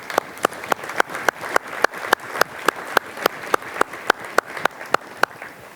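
Slow, evenly spaced claps, about four per two seconds, ring out clearly at an employee service awards ceremony, each sharp clap standing alone over a faint room murmur.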